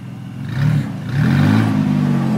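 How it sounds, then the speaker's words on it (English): A stuck prerunner truck's engine revs hard on the gas, surging in two rising pushes with a droning, straining tone and some clatter, close and loud. "I'm holding on the gas and like hit off the brake"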